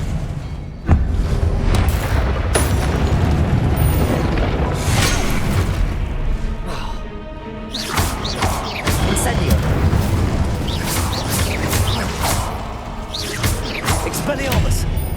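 Confringo and Incendio spell blasts in the video game Hogwarts Legacy, with booming bursts and fiery impacts landing repeatedly through a loud, continuous battle mix.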